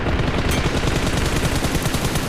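Dense, continuous rapid gunfire with rattling automatic bursts fills a BGMI battle match, loud and unbroken throughout with no voices over it.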